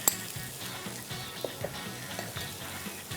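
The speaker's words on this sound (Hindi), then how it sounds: "अच्छे तरीके से इसको सॉटे करें इन तीनों चीज़ों को." Chopped onion and chicken mince sautéing in a pan, a soft continuous sizzle with scattered light clinks and scrapes of a utensil stirring against the pan, fairly close and moderate in level, no talk.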